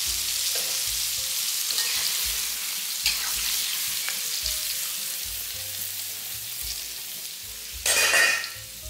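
Pieces of meat deep-frying in hot oil, a steady bright sizzle and crackle throughout with faint stirring clinks, swelling into a louder burst of sizzling near the end.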